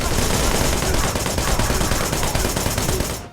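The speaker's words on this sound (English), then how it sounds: "August will mainly use his assault rifle" Sustained automatic assault rifle fire in Wanted: Dead, a loud, dense burst of rapid shots that runs without pause before cutting off at the end, heard alone without speech.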